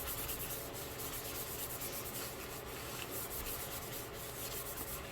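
Paper being burnished down onto wet glue for a Christmas mini album, a steady continuous rubbing and scraping that runs close and unbroken throughout with no talking.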